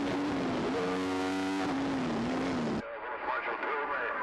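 Superbikes at the 2009 Tandragee road race blast through a chicane, one loud near machine with a high, wavering engine whine that cuts off sharply as it passes. A commentator talks over the engine noise.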